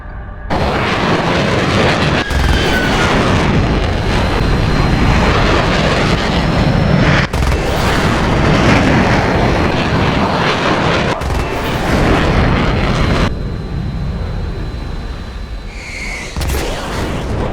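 F-86 and MiG-17 jet fighters dogfight in War Thunder, a loud continuous roar of jet engines and cannon fire that fills the whole stretch, with a few abrupt cuts and shifts in the din and no talk.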